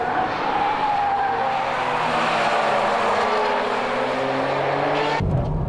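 Race car tires squeal hard under braking on a track, where a Ferrari 360 Modena, Porsche 911 Turbo and Nissan Skyline GT-R Nismo are racing. A loud, sustained wail slides downward for about five seconds before cutting off abruptly.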